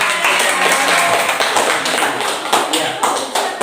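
Pupils in a classroom clap together, a dense patter of quick hand claps lasting several seconds with a few louder peaks, while voices murmur underneath.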